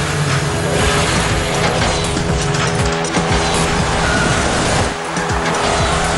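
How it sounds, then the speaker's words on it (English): Racing cars roar and skid with tire squeals in the iOS mobile game Rocket Cars, a loud, continuous blur of engine noise and screeching tires throughout. "there's a new racing game that's come out on iPhones and iPads. It's called Rocket Cars"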